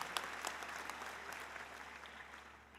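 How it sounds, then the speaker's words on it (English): Graduates and audience at a 2019 commencement ceremony applaud, brisk clapping at moderate loudness that gradually tapers off over a few seconds, with no talking over it. "I want you to give yourselves a round of applause."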